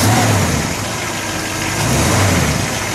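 A 283 V8 in a 1965 Chevrolet Chevelle Malibu station wagon runs loud and close, a rumbling idle with a slight swell in revs.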